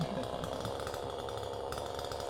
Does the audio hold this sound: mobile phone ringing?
no